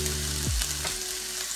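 Whole garam masala spices and chopped onion fry in ghee and oil, making a strong, close sizzle that lasts through the short moment over a background tune.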